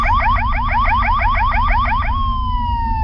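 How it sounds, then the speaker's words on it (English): A car alarm blares loudly with a rapid warbling whoop, repeating about a dozen fast cycles before settling into a steady tone. "can someone turn off their car alarm?"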